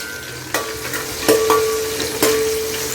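Food frying in a pan with a little salt added, while cooking Telangana-style bagara rice and chicken curry; a steady close sizzle broken by several sharp scraping stirs of a utensil against the pan, no talking.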